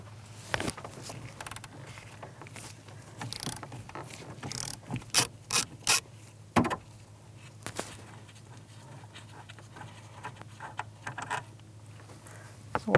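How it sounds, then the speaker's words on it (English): A 13mm socket ratchet clicks in short, irregular bursts while loosening the yoke bolt on a 1992-1996 Ford F-150 steering shaft, close up and fairly quiet, with thin background hum. "with a 13mm socket, I'm going to remove this little yoke that's located on the steering shaft"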